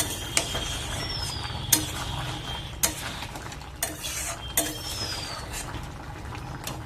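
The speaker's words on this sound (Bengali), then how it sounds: "এবার এটাকে ভালো করে তরকারির সাথে মিশিয়ে দেব।" Taro curry with eggplant and radish stirred in a pan, utensil scraping and clinking against the metal at an uneven pace over a low cooking hiss, no talk.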